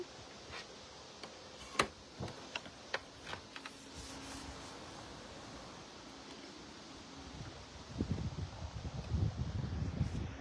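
Faint outdoor wind noise with scattered ticks and clicks, building to gusty low buffeting against the microphone near the end.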